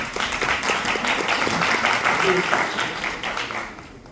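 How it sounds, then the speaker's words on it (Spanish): Audience applause during a Spanish-language talk, a steady wash of many hands clapping at moderate volume that gradually fades toward the end, with faint voices mixed in. "aplauso para los doctores para que se me ayuden"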